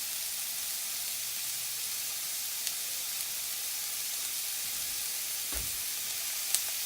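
Peppers and olives fry in a hot pan with a steady, soft sizzle and hiss throughout, plus a few faint stir clicks. No one speaks.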